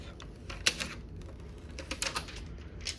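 Protective film is peeled off a new YesWelder 185DS Pro welder, giving quick crackling, sticky ripping bursts close by, irregular and in short clusters over a quiet room.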